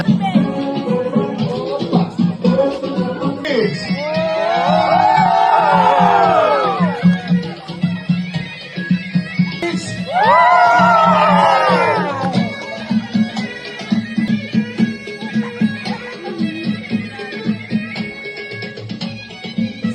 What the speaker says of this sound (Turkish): Alkışlar gelir, alkışlarla yola salırıq.